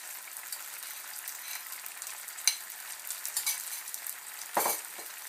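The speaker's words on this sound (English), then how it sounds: "if you use frozen, the ice will start to melt and it will start to spit" Frozen peas and sweet corn sizzle and spit in a pan of frying rice, a steady close hiss with scattered crackles and a brief utensil scrape near the end.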